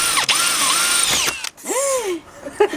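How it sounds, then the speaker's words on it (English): A power drill bores into the wall while an air conditioner is being installed, its high whine rising and falling in pitch across several short bursts at close range, with brief pauses between them. "let's go ahead and drill this"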